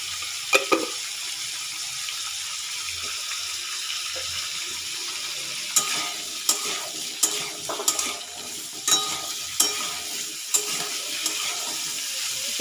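Vegetables fry in a pan for vegetarian broken wheat khichdi, giving a steady soft sizzle broken by repeated sharp scrapes and clinks of a spoon stirring against the pan, close and alone without talk.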